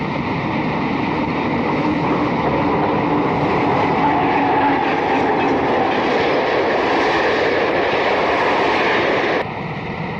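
An eastbound Erie Lackawanna train rolls into Hoboken with a dense, steady rumble and rail noise, loud and continuous throughout before dropping slightly near the end.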